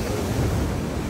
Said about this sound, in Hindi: लहरें ही लहरें हैं, लहरें लहरें इतनी ज़बरदस्त हैं।